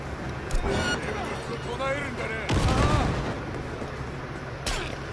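Gunfire in a video game from a melee-focused build, a few sharp bursts breaking through a busy mix of game sounds and speech, with the loudest volley in the middle and a final shot near the end.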